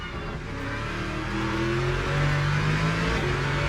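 Simulated BMW M4 LMGT3 race car engine in Le Mans Ultimate, a sustained high rev climbing steadily in pitch through the gears, loud and close with no speech.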